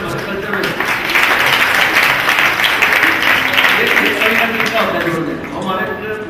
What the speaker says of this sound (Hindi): ताली बजती है